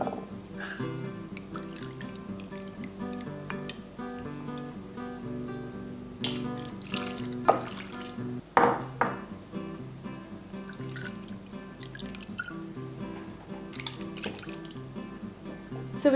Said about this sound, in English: I'm going to pour in some fresh squeezed lemon juice.